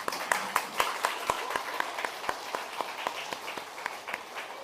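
Scattered audience clapping for stage performers, made of sharp separate claps in a loose, uneven rhythm, as if from a small group, at moderate level.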